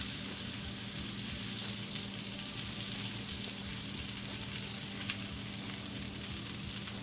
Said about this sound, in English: Just keep basting it with the honey and the butter and the cayenne and the paprika.